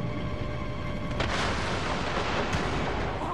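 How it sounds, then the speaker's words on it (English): Explosions in an Uncharted PlayStation Vita demo, a loud sustained rumbling barrage with a sharp blast about a second in and another burst later, over a steady game soundscape. "Okay, explosions. Always a good time."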